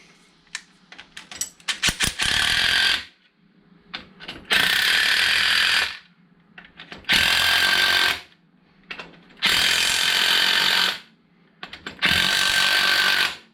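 Shankly tubular coil spring compressor being tightened on a strut: loud, buzzing bursts of a power ratchet or impact driver, each lasting one to two seconds, five times with short clicking pauses between, close and without talk.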